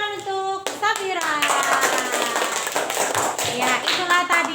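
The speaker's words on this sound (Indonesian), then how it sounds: "Tepuk tangan untuk Safira" Elementary school class claps for a pupil after a group presentation, brisk enthusiastic clapping from many children, close and lively, following a brief sung or spoken voice at the start.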